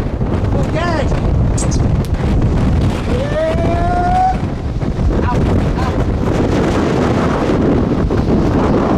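Heavy wind buffets the microphone with a constant roar throughout, outdoors near horses in Hațeg, Hunedoara, Romania, masking faint voices and a brief whistling tone.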